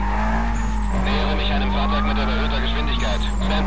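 A black Volkswagen races through a Need for Speed Most Wanted police chase, its engine droning loud and steady with tire squeals and sirens sweeping over it, continuous throughout.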